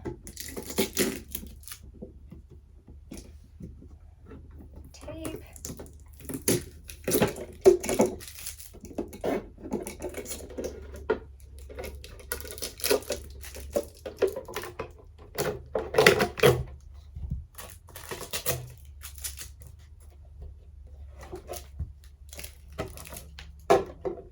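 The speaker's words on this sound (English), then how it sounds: "I'm going to get some of these unwrapped and the tape and stuff off of them" Storage containers are unwrapped with irregular crinkling, crackling plastic and sharp tearing of tape, bursts of handling noise and taps coming in uneven clusters close by over a quiet room.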